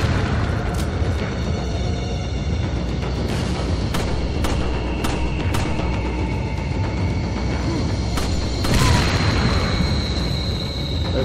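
Dynamite exploding in the Resident Evil 4 video game, a run of sharp booming bursts over a dense rumbling background, with a larger, fuller blast near the end.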